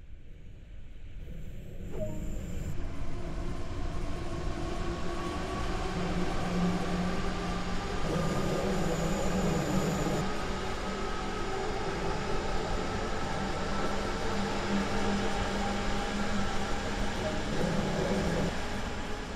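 A train rolls steadily in the Train Sim World Rhein-Ruhr Osten simulator, heard from outside: a continuous rumbling, hissing run with faint tonal hums, even and moderately loud throughout.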